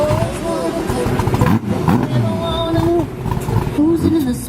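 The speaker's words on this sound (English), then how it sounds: "Is he gonna cold start it?" A Lamborghini engine on a cold start rumbles and roars loudly outdoors at a car event, with a throaty revving character, as people talk nearby.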